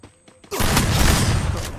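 Gunfire in a shooting video game: a sudden loud burst of rapid shots erupts after a quiet moment and keeps rattling densely to the end, with no talking.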